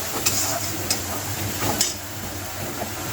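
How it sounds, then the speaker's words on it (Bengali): Onion paste and soaked spice mix are stirred and fried in a pan for a chicken dish. A steady sizzle runs underneath as a spatula scrapes and taps the pan at intervals, nearby, with no talking. "আবারও ভালো করে নেড়ে চেড়ে কষিয়ে নিচ্ছি।"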